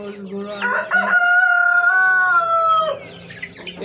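White Tiger chickens on a poultry farm: a loud, close rooster crow holds for about two seconds, with hen clucking before and after it and no talking.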